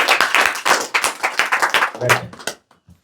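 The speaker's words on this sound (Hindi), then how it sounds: "ताली बजा के अपोस्तल सनी को स्वागत करें।" An audience at a Pentecost Sunday church meeting in Gumla claps to welcome Apostle Sunny, producing a close, rhythmic burst of hand claps that fades out after a couple of seconds, ending in near silence.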